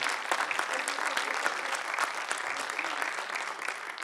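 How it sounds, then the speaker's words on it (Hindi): An audience at a singing competition finale applauds, with sustained dense clapping from a large crowd, fairly even in loudness and without voices. "बहुत जोरदार तालियों"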